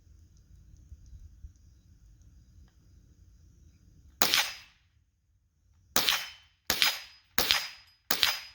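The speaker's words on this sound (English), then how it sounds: "I've been shooting the 22 long rifle at it for a good little minute now" A .22 Long Rifle fires at a cheap steel plate, sending out five sharp cracks with metallic rings. One comes alone after a quiet stretch, then four follow in quick succession, loud and close, each fading with a short ringing tail.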